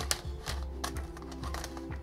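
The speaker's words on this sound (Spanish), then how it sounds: "voy a pasar por esta ranura con plástico y levantar" A plastic pry tool works under the keyboard of a Lenovo laptop, producing a string of soft, close clicks and snaps at an uneven rhythm against a faint background hum.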